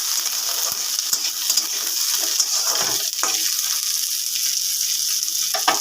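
Tomato and onion frying and sizzling in a pan, stirred with soft scraping clicks; a steady close hiss runs throughout with no talking.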